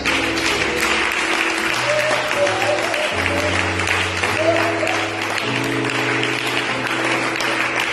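A church congregation applauds steadily throughout, a dense continuous clapping with sustained tones of music or voices underneath.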